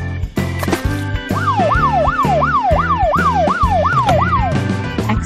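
A police car siren wails in a steady rising and falling cycle, loud and close, over a rhythmic engine-like backing, with no voices.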